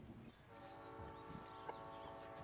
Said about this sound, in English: Look, a train made it.